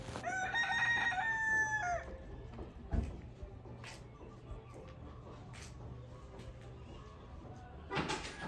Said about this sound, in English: Kauai does have a lot of chickens